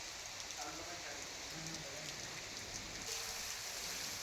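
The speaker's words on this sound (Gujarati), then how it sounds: "ક્યાંક ધીમી ધારે તો ક્યાંક ધોધમાર વરસાદ વરસી રહ્યો છે" Steady rain pours down in a constant hiss, with a faint voice murmuring somewhere beneath the wash.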